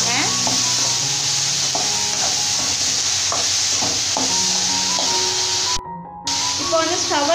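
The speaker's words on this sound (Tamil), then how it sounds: "இது எல்லாமே சேர்த்துட்டு நல்லா இந்த மாதிரி வதக்கி விட்டுடலாங்க." Bottle gourd pieces sautéing in a pan with salt, coriander and mint give off a steady close sizzle, with scraping stir strokes throughout and faint tonal sounds in the background.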